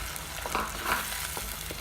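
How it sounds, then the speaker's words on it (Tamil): Pumpkin and coconut paste frying in a pan gives a brief, steady sizzle with a couple of soft scraping stirs, close and alone. "நல்லா பச்சை வாசம் போகிற வரைக்கும் நல்லா கிளறி விடணும்"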